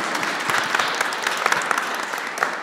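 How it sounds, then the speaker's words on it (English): An audience at an academic session on foreign graduates of Polish universities claps in a dense, continuous round with scattered sharper claps, with no talking. "Big applause, please."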